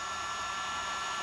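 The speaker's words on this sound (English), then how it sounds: "I got the heat gun on." A heat gun blows hot air in a steady, loud whoosh with no breaks, used while painting custom swim bait jigs.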